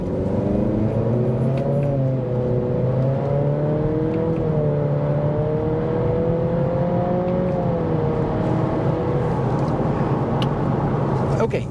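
A 2023 Acura Integra A Spec accelerating hard in sport mode with manual shifting, its engine note rising steadily and falling between gear changes, loud and close from inside the cabin, with no talk.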